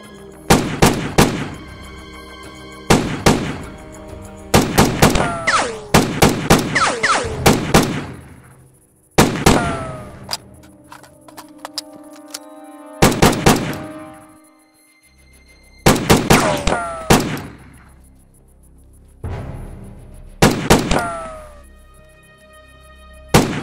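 Rapid gunfire rings out during a 100-metre moving shooting test at 30 pop-up targets, loud sharp shots in quick clusters separated by brief pauses, with a few isolated cracks.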